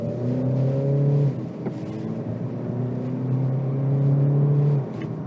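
A 2021 Audi Q2 crossover accelerates hard at full throttle, its engine note climbing steadily in two long surges with a brief drop between them. The car is close and loud, with no talking.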